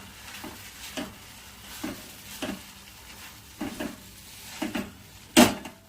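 A spoon stirs grated coconut into a tomato mixture frying in a pan, giving soft periodic scrapes over a low sizzle, with a sharper clank of utensil on metal near the end.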